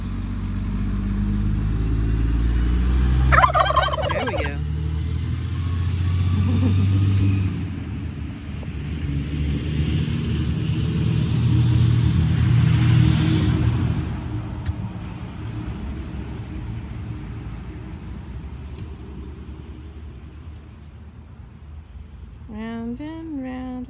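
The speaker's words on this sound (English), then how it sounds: "Big old truck." A big truck rumbles past outside near a backyard flock of Silkie chickens, its low engine noise swelling and fading across the clip, with a brief spoken remark and a bird call near the end.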